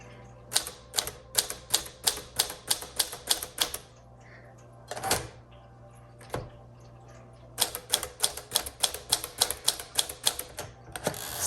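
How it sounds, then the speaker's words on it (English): A 1954 Smith Corona Silent-Super typewriter with Elite type types in two quick bursts of sharp, even keystrokes. A short pause with a couple of isolated clacks separates the bursts. "So on this typewriter,"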